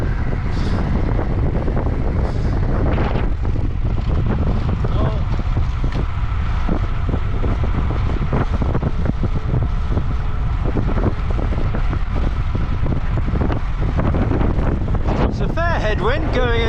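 Headwind roars and buffets against the microphone at a rowing race, a loud, continuous low rumble with gusting thumps throughout, and a voice briefly speaking under it.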